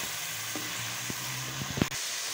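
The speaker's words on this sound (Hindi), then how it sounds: "बीफ कीमा डाल दिया हमने।" Beef keema frying in a pot for a dhaba-style wedding keema, a steady sizzle with a few stirring clinks and scrapes near the end, close and moderately loud with no talk.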